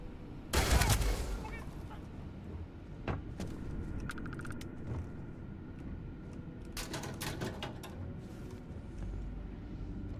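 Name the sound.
gunfire from the video game Starfield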